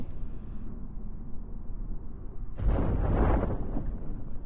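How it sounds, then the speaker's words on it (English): Parachute deploying on a spacecraft in Kerbal Space Program, heard as a sudden loud whooshing burst that swells over a low rumbling background and holds for about two seconds. "Chute deployed."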